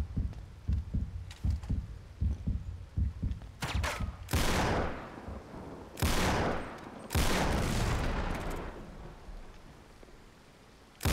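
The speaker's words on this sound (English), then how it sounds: "who the fuck is shooting me?" Gunfire in the Uncharted 3 video game crackles through a series of rapid close shots, then several heavier, longer bursts ring out with loud roaring tails.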